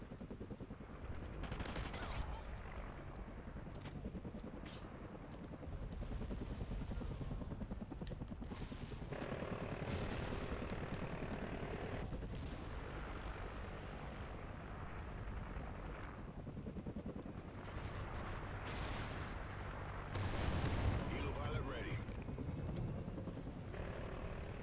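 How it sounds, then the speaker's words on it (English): In Call of Duty: Ghosts, a friendly Hind attack helicopter drones in through a steady roar of rotor noise, with scattered gunfire bursts and explosions cutting through the faint, continuous battlefield din. "Friendly hind incoming."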